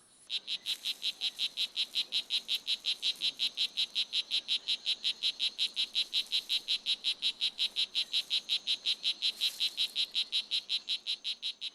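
A male strawberry poison dart frog calling close by in Costa Rican jungle, inflating its vocal sac, in a fast, steady series of buzzy chirps, repeating evenly several times a second without pause.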